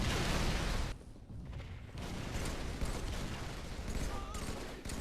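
Explosions and gunfire in a Halo-style shooter battle, with plasma grenades going off amid a dense, loud wash of game combat noise and bursts of shots.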